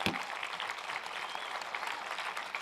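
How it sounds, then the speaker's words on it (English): An audience in a church hall gives a round of applause, a dense, even patter of many hands clapping at moderate distance, fairly quiet and steady without any voices. "Everyone, big round of applause for everyone up here."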